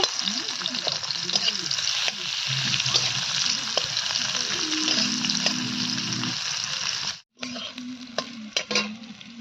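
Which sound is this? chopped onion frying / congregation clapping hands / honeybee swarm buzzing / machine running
chopped onion frying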